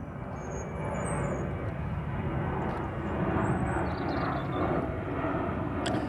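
A noisy aeroplane from Stansted airport flies over Broxted, Essex, a steady broadband roar that swells slightly and holds throughout, with faint high chirps above it.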